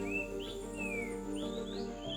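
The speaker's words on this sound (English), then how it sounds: "Hear the birds." Birds sing in Kibale forest, thin whistled chirps and rising tweets repeating over a soft steady backdrop of insect hum, fairly distant and gentle with no voices.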